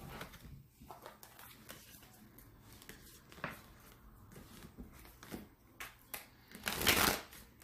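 Oracle cards are shuffled by hand in several short bursts of soft papery riffling and slapping, close to the microphone, ending in a louder flurry, with no talking.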